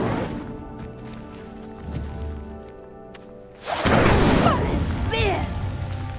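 The Incendio fire spell in Hogwarts Legacy ignites a pyre with a sudden loud whooshing burst of flame, followed by a sustained roaring crackle of fire, after a quieter stretch of ambient game sound.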